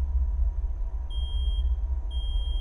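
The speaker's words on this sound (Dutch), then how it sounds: "Waarom gaat je alarm om 4:38?" An alarm in a horror video game beeps twice, about a second apart, each a steady high electronic tone lasting about half a second over a constant low droning rumble.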